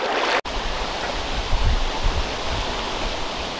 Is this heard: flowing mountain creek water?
yes